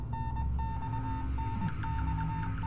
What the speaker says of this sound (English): The beeping becomes gradually louder, almost as if some is trying to tell me something.